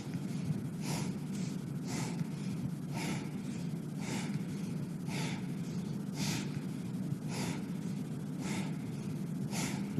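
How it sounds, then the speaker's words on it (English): Slow guided yoga breathing during standing poses, soft rhythmic inhales and exhales about once a second, faint and close, with no talking. "Inhale, exhale."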